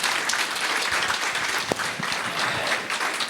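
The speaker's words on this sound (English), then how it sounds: "Can we give them a round of applause?" A room full of people applauding after speakers shared openly about money and finance, thick continuous clapping at close range for a few seconds with no talk.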